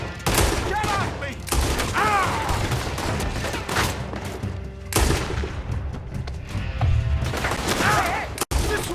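Bursts of gunfire erupt in a Red Dead Redemption 2 shootout, with repeated loud cracks and volleys clustered together, interleaved with shouting voices and game effects.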